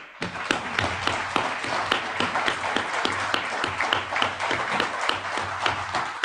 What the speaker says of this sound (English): It means a lot to me to get at least one little bit of applause.